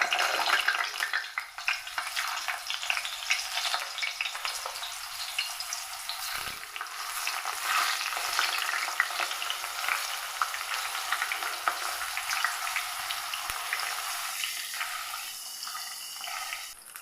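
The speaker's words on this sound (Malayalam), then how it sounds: "ഇനി അതേ സെയിം എണ്ണയിലേക്ക് തന്നെ നമ്മൾ അരിഞ്ഞെടുത്ത നമ്മുടെ മാങ്ങ ചേർക്കും" Chopped mango frying in oil for a Kerala-style oil mango pickle, a steady loud bright sizzle with faint stirring that runs throughout without any talk.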